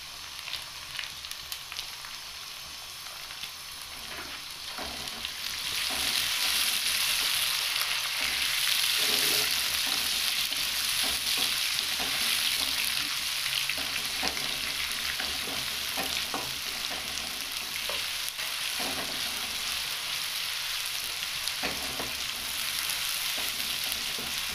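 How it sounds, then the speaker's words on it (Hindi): Chopped tomato is added to hot oil in a pan for a fish curry and fries with a continuous crackling sizzle that grows louder after a few seconds, close and steady, with occasional stirring clicks and no talking. "अब इसमें शामिल करूँगा टमाटर।"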